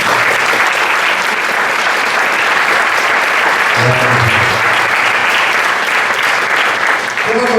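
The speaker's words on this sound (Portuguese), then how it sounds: "Vamos aplaudir o Senhor mais uma vez?" A church congregation at a contemporary worship service in São Paulo gives sustained, loud applause that stays dense and even throughout, with a brief low murmur of voices partway through.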